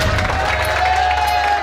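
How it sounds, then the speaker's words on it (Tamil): Loud applause and crowd noise fill a gym during a competition prize announcement, a steady dense wash of clapping and voices over a low hum. "ஒரு பெரிய கரகோஷத்துடன்"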